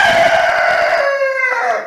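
A chicken on a homestead gives one loud, drawn-out call close by, near a rooster crow, with harmonics that fade out after about a second and a half.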